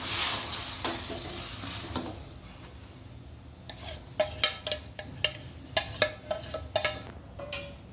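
Semolina being poured into boiling water in a pot on a low flame: a soft hiss and rustle first, then a run of sharp metallic scrapes and clinks of a spoon stirring against the pan.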